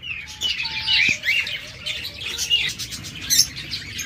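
Doves held for sale, some sitting on nests with eggs, call amid a busy chorus of other caged birds chirping and squawking, with a few clear whistled tones standing out nearby.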